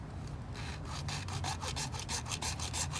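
Hacksaw blade cutting through a pipe during a hose bibb repair, close and steady. The rasping strokes repeat quickly and evenly for about three seconds with no talk.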